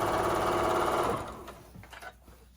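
Janome sewing machine fitted with an AccuFeed walking foot stitching fabric binding for a fabric basket; a loud, steady motor whir runs for just over a second, then slows and stops, leaving faint handling noises.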